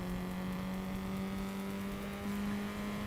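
Race car engine in the RaceRoom racing game drones steadily at a constant pitch for the whole stretch, loud and close with no talk over it.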